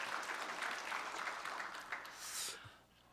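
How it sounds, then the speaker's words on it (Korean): A congregation claps together during a Korean Sunday church service, a dense, fairly loud burst of applause that runs steadily and tapers off near the end. "우리 찬양 받으신 주님께 영광의 박수"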